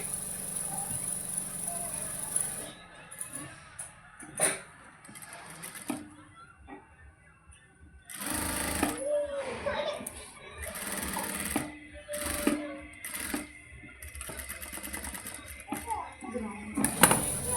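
A sewing machine runs long basting stitches through blouse fabric in quick, close, whirring bursts, with pauses between them and someone talking in the gaps.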